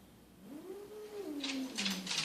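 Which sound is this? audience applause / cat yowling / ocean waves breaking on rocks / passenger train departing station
cat yowling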